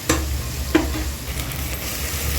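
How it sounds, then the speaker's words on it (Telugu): Ginger garlic paste sizzles steadily in a hot pan while making Andhra-style bagara rice, a constant frying hiss with a couple of brief stirring scrapes and clinks near the start. "అల్లం వెల్లుల్లి పేస్ట్ వేసుకొని ఆల్ ఇంగ్రీడియంట్స్ 10 మినిట్స్ బాగా స్మెల్ వచ్చే వరకు ఫ్రై చేసుకోవాలి."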